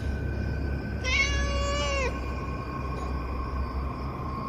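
A single drawn-out cat meow, clear and close, rising over a faint steady background hum.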